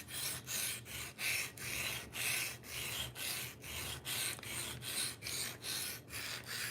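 A knife blade is drawn across a diamond sharpening stone in steady back-and-forth strokes, about two per second, each a close, gritty rasping scrape with brief pauses between, no talking.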